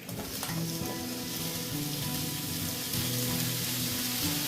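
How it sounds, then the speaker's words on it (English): Sausage browns in a pan over medium-high heat, giving a loud, continuous close-up sizzle with crackling spatter throughout. "And we want to brown this sausage."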